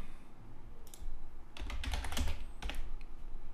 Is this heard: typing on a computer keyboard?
yes